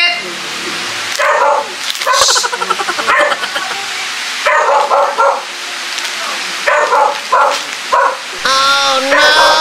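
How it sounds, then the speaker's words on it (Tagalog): A pet dog named Marikit barks and yips repeatedly indoors, loud and close, interleaved with someone talking during a grocery unpacking session. "Medyo may yung aso."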